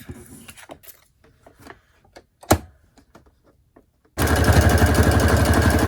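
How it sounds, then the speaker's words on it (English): A sewing machine running a zigzag stitch starts up after a few quiet taps and clicks, then runs loud and steady with a fast, even mechanical rhythm to the end. "My zigzag stitch is number 5 on the machine"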